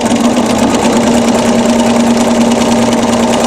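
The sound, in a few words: sewing machine quilting a feather design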